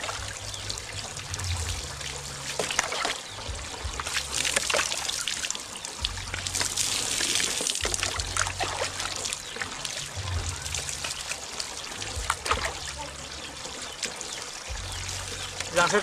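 Water trickles and pours in a steady, broadband wash while someone rinses off beside a river, with brief splashes and a low hum throughout, close and moderately loud with no clear talk.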